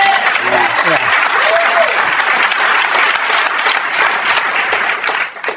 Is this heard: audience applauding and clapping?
yes